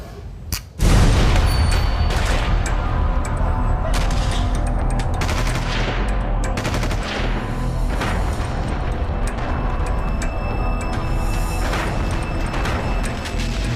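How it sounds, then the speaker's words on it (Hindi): War bombing in Afghanistan: a sudden loud blast opens into sustained rumbling booms and rapid crackling gunfire, dense and chaotic, continuing for over ten seconds. "बम धमाके"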